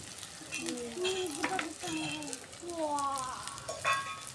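Onion, bay leaves, garlic and green chilli frying in a pan for fish curry, a steady close sizzle with soft crackling and occasional stirring, a faint voice present in the background.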